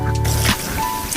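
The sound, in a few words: rinsing ecoprint fabric under running water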